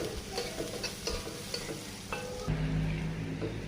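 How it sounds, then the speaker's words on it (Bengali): Hot oil with chopped onion and garlic fizzes under stirring scrapes, then shredded cabbage drops in and a louder, steady sizzle takes over. "তেল গরম হয়ে গেছে, আমি পেঁয়াজ, রসুন কুচিগুলো দিয়ে এবার পাতাকপি তেলের উপর দেবো।"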